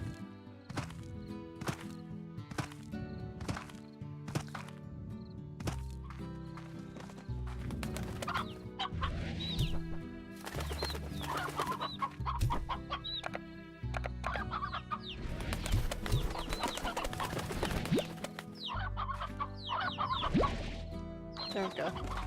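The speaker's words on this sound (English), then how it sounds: "Why am I finding more chickens? Or hens. They are chickens" Chickens cluck repeatedly in the Slime Rancher video game, short bursts of clucking mixed with game sound effects and music, with a voice talking over parts of it.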